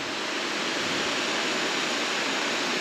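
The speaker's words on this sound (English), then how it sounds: "Waterfall." A waterfall pours in a steady, dense roar, close and loud, with no break across the short stretch and no voices over it.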